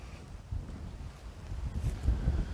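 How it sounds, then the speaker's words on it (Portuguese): Strong wind buffets the microphone, producing low, rumbling gusts that swell and fade irregularly with no other sounds present. "a ventania começa"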